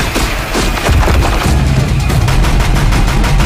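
Gunfire in the action game Horizon Zero Dawn, loud rapid booming shots and bursts in a dense barrage, with heavy low thuds and crashing impacts throughout.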